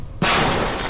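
An armored enemy blows up in Fallout: New Vegas: one sudden, loud, sharp blast that decays over the next fraction of a second after a short quiet moment.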